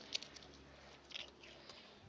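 A goat crunches potato chips nearby, giving a few brief, crisp bites over quiet background hiss.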